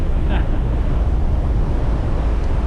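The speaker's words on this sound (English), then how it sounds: "Very windy up here as well." Strong wind buffets the microphone in a steady, loud roar on a car ferry from Split to Hvar Island, Croatia, low rumbling throughout with no pauses.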